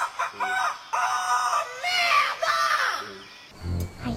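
A rooster crowing in the video game Warz (Infestation), a loud, drawn-out cock-a-doodle-doo call with wavering pitch lasting most of the few seconds, then cut off by a brief different noise.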